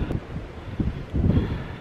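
Wind buffets a microphone outdoors during a freezing landscape photography shoot at about zero degrees, a steady low rumble that swells in gusts, loudest near the end, with no talking.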